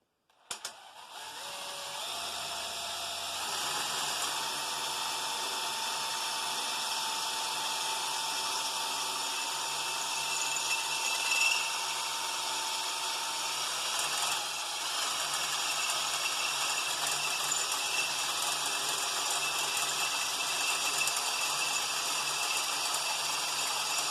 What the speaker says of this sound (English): So I'm going to set up and start drilling this